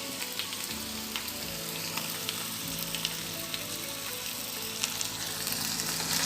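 Leftover chicken gravy is poured into a hot pan of green masala chicken fry and sizzles, giving a steady, close frying hiss with small crackles and pops throughout and no voices.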